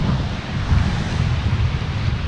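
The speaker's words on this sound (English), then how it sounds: "It's quite windy." Strong wind gusting at the Cascade Falls viewpoint near Buena Vista, Colorado, about 9,000 feet up, a steady loud roar of wind buffeting the microphone with low rumbling surges and no talk.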